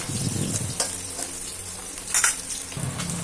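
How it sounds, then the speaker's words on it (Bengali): Puti fish frying in oil in a pan, a constant close crackling sizzle with a few soft stirring scrapes and spatters, no talk. "মাছগুলো ভাজা হয়ে গেছে"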